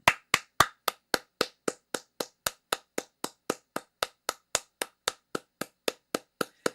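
Sharp, separate hand claps at a slow, steady pace, about three per second, crisp and close, with silence between each one.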